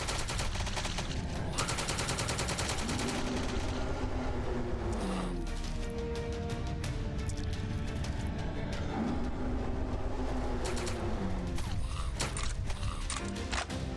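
Continuous gunfire from a top-down shooter, Eva: Final Mission, with rapid repeated shots and mechanical clicks running steadily throughout over layered game sounds, loud and unbroken.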